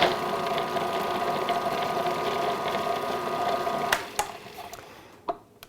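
A food processor whizzes an egg into sweet tart dough, a loud steady motor hum with a buzzing rattle for about four seconds before stopping, followed by a few light knocks and clicks.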